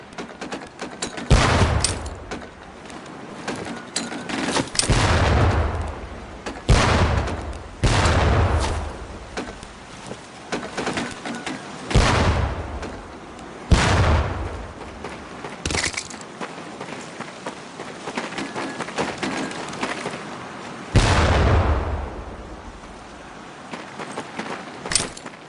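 Training grenades thrown at barrels at a Medal of Honor: Pacific Assault boot camp burst one after another, a loud sharp blast roughly every few seconds followed by rumbling decay, with no talk.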